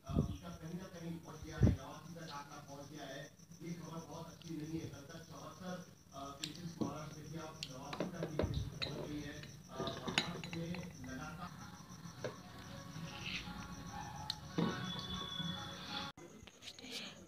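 Frozen tutti frutti ice cream is pried and scooped out of its container, with irregular metal clinks, taps and scrapes of a utensil against the dish, some sharp and close, spread across the whole stretch.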